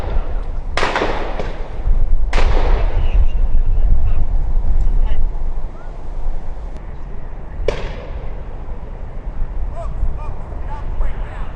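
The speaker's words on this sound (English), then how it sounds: "You heard the gunshots" Three sharp, loud rifle shots ring out at separate moments, a few seconds apart, over a busy outdoor rumble of background noise in San Diego.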